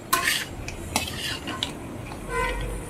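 A spoon scrapes and clinks against a pan as spice masala is stirred with crab pieces and potatoes, with intermittent scraping strokes and a soft low sizzle underneath.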